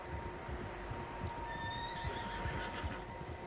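Horses in a video game whinny in a short, high neigh partway through, over a steady backdrop of hoofbeats and ambient noise at moderate, slightly distant volume.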